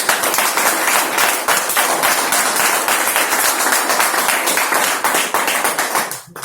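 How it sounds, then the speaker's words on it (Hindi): An audience at an RCM business meeting claps loudly for the speaker, close and vigorous with crisp individual hand strikes, sustained for about six seconds before cutting off abruptly. "इसलिए तालियां बजाओ सर के लिए"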